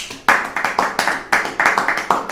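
A church congregation claps in a quick, steady rhythm, about a dozen sharp, loud, close claps in a row, with no talk over them.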